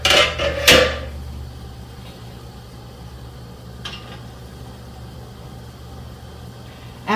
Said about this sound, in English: our canner is very hot and boiling and ready to put these jars in